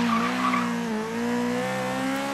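Turbo-tuned car in the racing game Forza Horizon 3, a steady loud engine drone with harmonic whine and tire squeal throughout, no talking.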